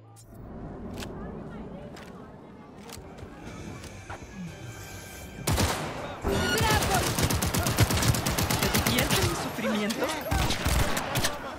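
Gunfire in Cyberpunk 2077 erupts halfway through, a dense run of rapid shots that stays loud to the end, following a quieter stretch of game ambience with a few sharp cracks.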